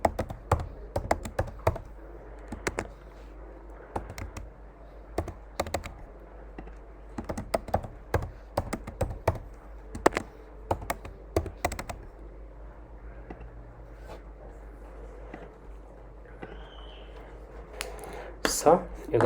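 Someone types a password on a computer keyboard, making bursts of quick, close clicking keystrokes with pauses between the bursts in a quiet room.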